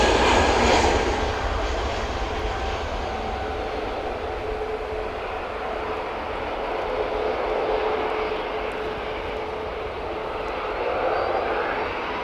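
Airbus A320neo airliner departing Manchester Airport for Dusseldorf: a continuous mid-distance jet roar with a steady hum and broad rushing wash, holding level for several seconds, no talk.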